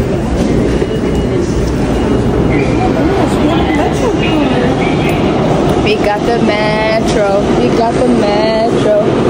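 A metro train rumbles loudly and continuously, with rattling and squealing wheels, while people talk over the noise.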